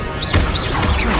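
Incendio fire spell cast in the Hogwarts Legacy video game, a loud burst with a crashing impact and whooshing flare, with game sound layered over it.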